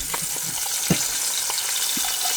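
Tengra fish frying in a pan, a steady bright crackle of hot oil with a few louder pops scattered through, close and continuous with no voices.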